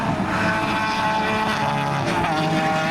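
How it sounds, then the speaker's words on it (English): Holden Commodore touring car racing down the main straight: a loud, sustained engine roar close by, with a shifting pitch as it accelerates. "Riley prevailed as he passed Marks down the main straight, the Commodore slightly locking the front right as it held on to first"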